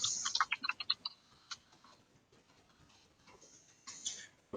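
Quick burst of keystrokes on a computer keyboard while a file name is typed, a close rapid clatter at the start, then quieter scattered taps and another short flurry near the end.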